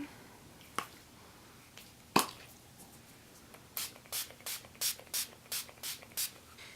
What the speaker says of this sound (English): setting spray, which we will do now.